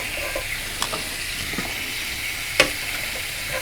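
Sausages sizzle in a CalmDo multicooker, a steady close frying hiss broken by a few soft clicks and one sharper tap as they are rolled around in the pot.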